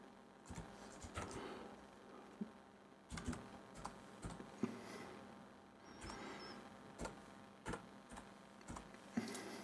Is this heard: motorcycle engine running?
no